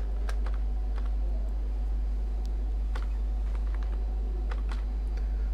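Fingers type on a computer keyboard in quick uneven bursts of sharp clicks, close up over a steady low hum, with no one speaking.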